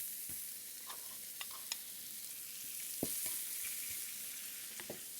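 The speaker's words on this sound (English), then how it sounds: "Now, back on the heat, and in go the chops." Pork chops sear in a hot pan with a bright, constant sizzle and sharp scattered crackles and pops, close and steady throughout, with no one talking.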